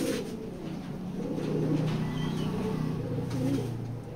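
A red checker racer pigeon and its companions coo nearby in a continuous low, burbling rumble, fairly loud and rhythmic, with occasional soft rustling around them.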